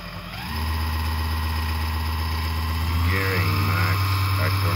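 A Chinese 500W brushless motor runs at 24 volts, driving an Emco Unimat lathe through a pulley: a steady electric hum with a faint whine that starts after half a second and holds to the end, with a slight shift partway through; a voice speaks over it.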